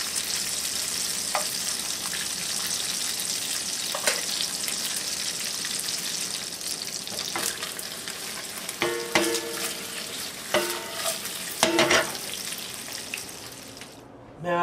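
Bacon crackles and sizzles steadily in a frying pan for a feast-day meal, a dense continuous hiss with scattered pops and a few brief clinks and scrapes of utensils near the end.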